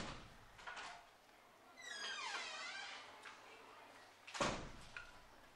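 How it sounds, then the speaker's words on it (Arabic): An indoor door in a lecture room closes, with a sliding squeak partway through and a firm thud near the end, faint and somewhat distant in a quiet room. "سكر الباب الله لو سمحت."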